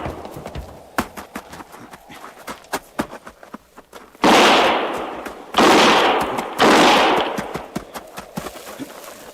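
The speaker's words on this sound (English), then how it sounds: "Start firing." Gunfire in a radio western drama about a wagon train: a run of sharp, rapid shots crackles first, then three heavy, loud blasts ring out with long decaying tails, and no one speaks.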